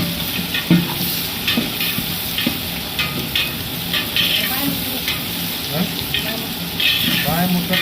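Chopped onions frying in a pan for a large six-kilo batch of upma, a steady oily sizzle and hiss broken by scraping, clattering stirring strokes at an irregular rhythm, close and fairly loud.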